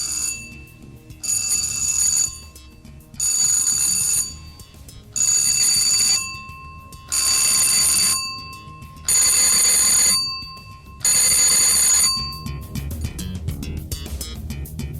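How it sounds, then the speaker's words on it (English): An oil rig's fire alarm rings loudly in repeated bursts of about a second each, evenly spaced with short gaps, harsh and piercing, sounding alone. "The fire alarm on your rig,"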